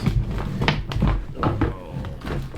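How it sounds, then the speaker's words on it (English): A few hollow thunks as a drawer is pushed shut in a video game, close and fairly loud, with short knocks spread over a couple of seconds. "Put this thing in the drawer so he can't see it."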